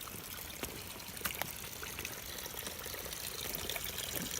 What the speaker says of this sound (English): Where you get fresh spring water.